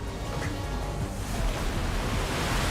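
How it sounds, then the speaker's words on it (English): A huge rush of water surges forward in Genshin Impact, a broad, continuous roaring wash that stays loud and steady throughout. "Here comes the water."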